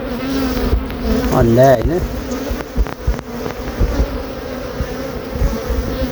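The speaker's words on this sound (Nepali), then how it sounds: "मौरी अरू घारमा भन्दा यसमा चाहिँ बढी एक्टिभ भएको मलाई लागेको छ।" Honey bees hum thickly at a busy beehive, a close, steady swarm drone that runs the whole time under a Nepali speaker's brief talk.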